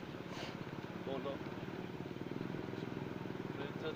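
Several motorcycle engines rumble steadily nearby throughout, a continuous low drone with people talking over it.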